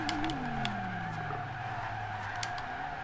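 Tires of a 2010 Lexus LFA in Forza Horizon 2 skid under hard braking, a loud sustained squeal sliding downward in pitch over the engine drone, no voices.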